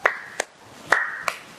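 Sharp hand claps from a classroom group playing a clap-pattern ice-breaker game, four distinct claps spaced unevenly across a short moment, fairly close and crisp, with no talking.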